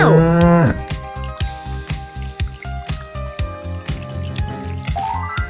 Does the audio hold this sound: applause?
no